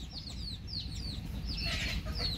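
A desi chicken with a cold clucks repeatedly up close, short chirpy calls coming in a quick irregular series over a soft background hiss.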